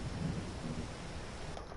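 A thunderstorm in the farming game Farming Simulator 22, a steady roll of thunder with rain hissing over it, holding a fairly even level throughout.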